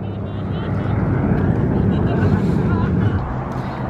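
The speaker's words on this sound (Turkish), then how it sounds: "Evet, uçak kalkıyor." A loud, steady jet roar of an airplane taking off fills the air, broad and rumbling, with a strong windy wash throughout.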